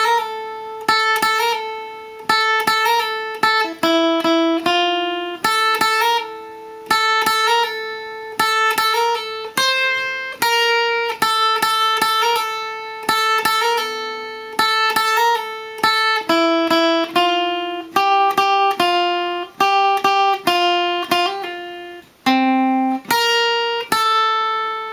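Guitar plays the intro of a song below full speed, a steady sequence of clear plucked single notes and double-stops with a regular, unhurried rhythm, close and alone.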